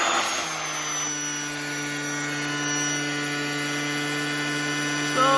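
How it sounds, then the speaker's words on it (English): An auxiliary electric air pump from a Ferrari 355, 456 or 550, repaired after melted plastic, runs steadily under pressure test with a constant electric whine and hum, alone and close, with a slight pitch shift near the end. "Not too bad, actually, for a auxiliary electric pump."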